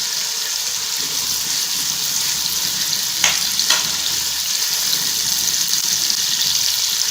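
Chopped onion, garlic and ginger frying in hot ghee for an aloo gobi palak dish, a steady close hiss and crackle of sizzling oil with a couple of brief stirring scrapes, no talk.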